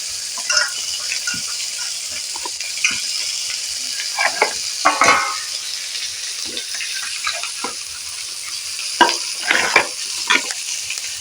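Onions and potatoes fry in a pan for a banana-stem and fish curry. A constant bright sizzle sits underneath, while the spatula stirs and scrapes in irregular bursts, loudest around the middle and near the end.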